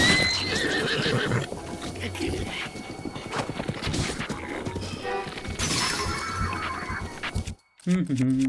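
A horse neighs in The Legend of Zelda: Breath of the Wild on Nintendo Switch, with hoof clip-clops, shattering crashes and game effects while someone talks over the action.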